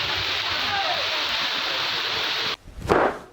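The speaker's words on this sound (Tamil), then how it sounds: "ஃபுல்லு மழை வர வந்து இருக்கு" Heavy rain pouring down on a road, a loud continuous broadband hiss that cuts off abruptly near the end, followed by a short burst of louder noise.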